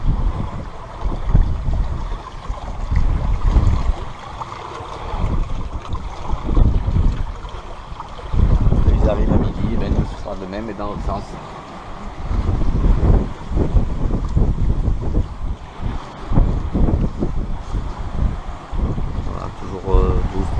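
Wind and water rush around a sailboat under sail in a steady 12-13 knot breeze, a constant broadband roar with close male speech over it for most of the stretch.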